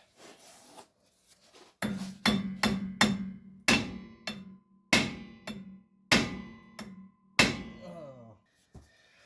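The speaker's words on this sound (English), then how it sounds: "So I'm gonna get a bigger hammer." Sharp, loud hammer blows strike about ten times in an uneven rhythm while working on a fastback car, each with a short ringing decay, close by.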